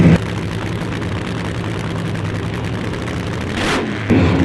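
A tuned Shakedown Camaro race car engine at a drag strip sends out a steady, loud, rough roar that swells slightly near the end.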